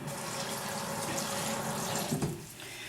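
Tap water runs steadily into a bowl to soak shredded seaweed for an ahi tuna and edamame salad, a close, continuous splashing rush that briefly shifts in tone near the end, with no talk.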